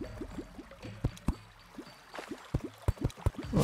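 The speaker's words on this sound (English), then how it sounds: "that's a lot of water, hang on" Water in Terraria pours and drips as a steady liquid trickle, with rapid plopping splashes and sharper drops that grow busier toward the end.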